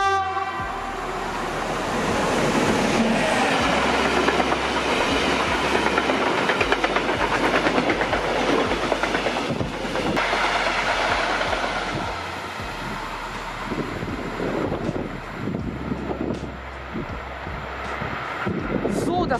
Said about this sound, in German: Da kommt jetzt der nächste Zug.